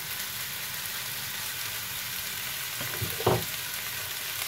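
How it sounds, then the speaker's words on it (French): Pre-cooked green beans, already boiled in salted water, fry in a pan as a steady low sizzle. A brief stir or clatter breaks in near the end. "On va mettre les haricots verts dans la poêle"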